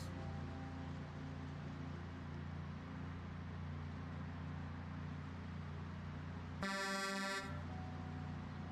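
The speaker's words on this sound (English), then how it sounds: "it used to be so satisfying honking the horn with these things" A semi truck horn in the video game Project Zomboid blares once for about a second, loud and bright over a low, steady engine drone.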